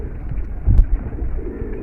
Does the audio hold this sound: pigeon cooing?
yes